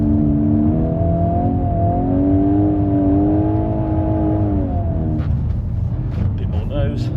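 A VW Golf R 8.5 on Nordic studded tyres drives on snow, its engine holding a steady droning note that rises slightly and then fades into tyre and road rumble near the end, with someone talking over it.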